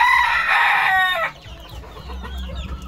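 A breeding rooster crows loudly up close, one drawn-out call, followed by quieter clucking and scratchy farmyard sounds.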